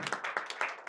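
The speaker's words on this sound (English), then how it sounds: "A round of applause." A short burst of clapping at a panel discussion, a few distinct claps in quick irregular rhythm, fairly faint and close, with no talking over it.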